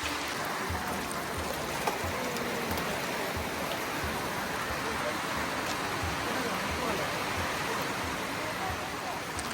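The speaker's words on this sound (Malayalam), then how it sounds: "മഴേൻ്റെ അവസ്ഥ നോക്ക്, ഒരു മഴ." Steady heavy rain pours down on the Ranipuram hilltop, a dense continuous hiss with no breaks, close and enveloping, with faint background voices mixed in.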